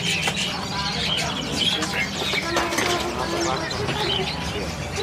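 Many small birds, including white-rumped shamas, chirp and tweet busily throughout while people talk nearby, in a crowded, noisy bird market.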